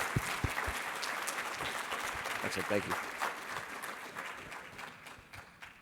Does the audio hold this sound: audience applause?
yes